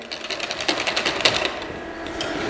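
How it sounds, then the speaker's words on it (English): A whisk clicks rapidly against a bowl as hot bay-leaf custard mixture is beaten into egg, a steady close rattling with sharper accents, no talking. "And then whisk that in like so, into the egg, just to get that incorporated."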